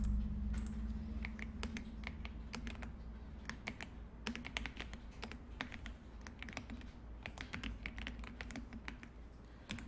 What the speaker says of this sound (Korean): 컨트롤 키 누른 상태에서 방향키 아래로 2번 눌러줄게요